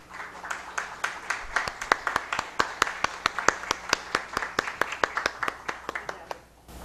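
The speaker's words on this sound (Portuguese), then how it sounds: "Eu peço aos senhores que recebam com uma salva de palmas a doutora Simone Casoretti." At a public-security talk, an audience welcomes someone speaker with steady, rhythmic clapping, sharp distinct claps at a brisk even pace that carry on for several seconds before stopping.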